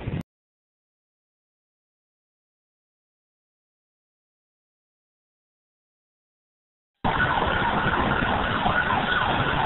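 A federal police vehicle siren near Ensenada, Mexico, clearing traffic for two trucks hauling a double-wide trailer; after a long stretch of near silence, a loud steady siren blares for the final few seconds.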